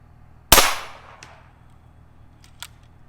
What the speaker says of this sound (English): that should be 13 shots there